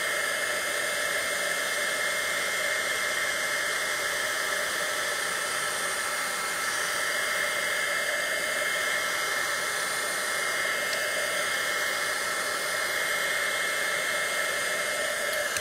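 Heat tool blowing steadily over embossing ink, a loud, constant airy roar with a high whine that holds unbroken throughout, close and with no talking.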